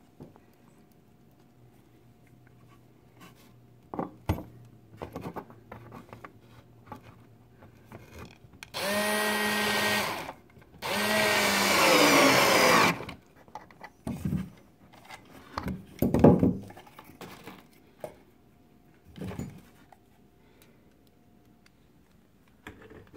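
A power drill drives screws to fasten hardware onto a coffee table made from clearance wood: two loud, sustained whirring bursts of a few seconds each, surrounded by quieter knocks and handling clatter.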